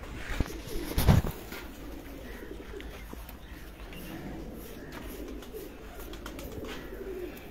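A pigeon kept in a home loft coos faintly in low repeated calls, with a brief loud knock or handling noise near the start and quiet background.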